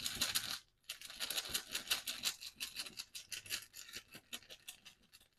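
Board game tokens are shuffled in a bag, giving a dense run of clicking and clattering with a short pause near the start and then steady irregular rattling, close and fairly quiet.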